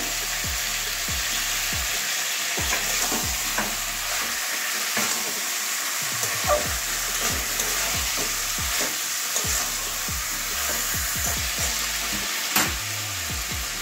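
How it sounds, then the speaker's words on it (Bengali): Chicken sautés in a hot pan, a steady loud sizzle and crackle with frequent scraping stir strokes running throughout, no voices. "ভালো করে কষিয়ে নেব, 3-4 মিনিট ধরে কষাবো।"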